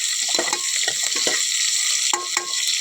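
A thick onion crackles as it fries in a pan for a greens curry, giving a steady close sizzle with bursts of stirring scrapes throughout.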